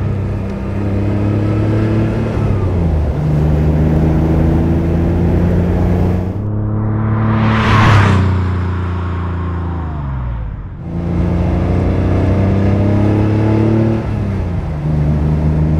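A 1989 Porsche 911 Speedster flat-six pulls along a country road, its loud engine note rising through gears with clear shifts and a brief high whine, steady and close with no talk.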